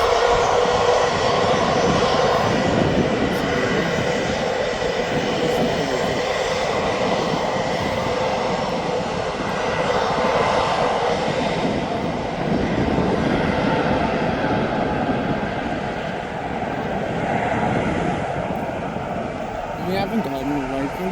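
Ryanair jet airliner at Birmingham Airport, a loud steady roar of jet engines holding near and constant throughout, with a low rumble underneath and no voices over it.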